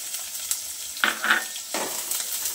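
Onion frying in oil with mustard seeds and cumin, a steady close sizzle broken by a few scraping stirs of a spoon in the pan, with no voices.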